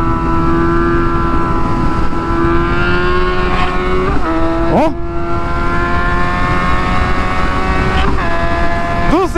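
Suzuki GSX-S motorcycle engine revving hard and accelerating, a loud close steady drone that climbs in pitch with brief dips at gear shifts near 4 and 8 seconds, with a short exclamation from a rider.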